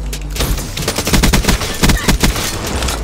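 Rapid close gunfire in Call of Duty: Black Ops 3, a loud stuttering run of sharp shots in quick bursts, with dense clusters in the middle and a brief lull near the end.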